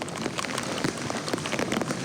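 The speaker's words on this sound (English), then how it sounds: "It's pouring with rain." Heavy rain pours steadily on a creekside trail in grizzly bear country, a dense, even hiss of drops with no talking.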